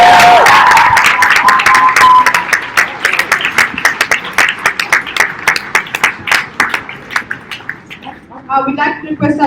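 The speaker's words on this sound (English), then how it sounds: "Can we please have another round of loud applause for the audience?" Loud, dense applause from an audience that gradually thins into scattered individual claps, with a few cheers early on.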